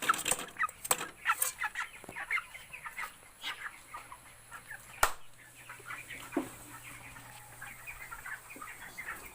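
21-day-old broiler chickens cluck and peep continuously at close range, with many overlapping short calls over a steady low hum.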